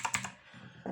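Clicky keystrokes on a Redragon K561-RGB VISNU mechanical gaming keyboard, a quick burst of three followed by a pause and another key press, close and crisp.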